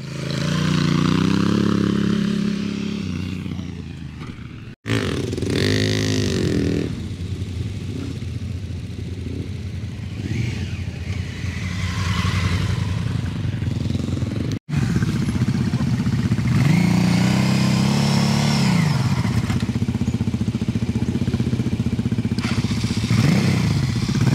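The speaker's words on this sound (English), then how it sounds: "Big Africa twin, look at it go." A big Honda Africa Twin adventure motorcycle rides during off-road skills training in South Australia, its engine revving and surging continuously with throttle changes, clattering and thumps over rough ground, fairly close.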